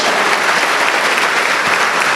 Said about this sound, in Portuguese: vamos aplaudir, é bonito, hein?